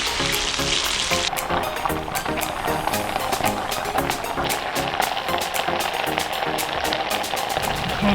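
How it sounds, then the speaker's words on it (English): Spicy lamb dumplings fry in a hot pan as the last water cooks off, giving a steady, close, dense sizzle with crackling pops throughout. "And now just keep these guys on the heat until all of the water evaporates."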